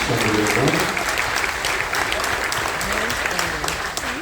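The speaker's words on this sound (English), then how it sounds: "would you mind giving them a big round of applause?" Audience in a cruise ship lounge during a military appreciation event giving a round of applause, sustained crowd clapping with scattered voices and murmurs mixed in, fading slightly toward the end.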